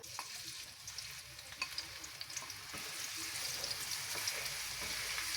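Food frying in olive oil in a pan: a close, steady hiss and crackle of sizzling that grows fuller and more continuous, with occasional stirring clicks and no talking.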